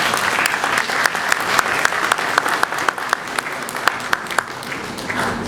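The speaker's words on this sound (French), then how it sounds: "Je pensais que quelqu'un pouvait m'applaudir." Scattered audience applause at a public talk, with individual sharp claps standing out over a steady wash of clapping and crowd murmur, moderately loud throughout.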